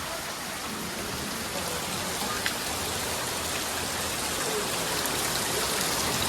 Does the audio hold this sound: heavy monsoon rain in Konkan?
yes